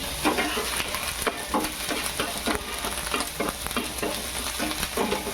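Garlic and curry leaves crackle and sizzle loudly in hot oil in a pan, a close, continuous frying hiss punctuated by repeated stirring scrapes at an irregular rhythm.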